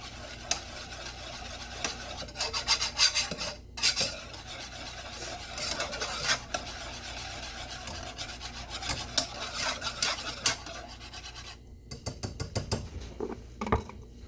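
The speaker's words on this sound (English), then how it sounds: "Just continue stirring." A spoon stirs homemade gravy made from pan drippings, scraping and rubbing steadily against the pan in a continuous close, fairly quiet rasp with brief pauses, no voices.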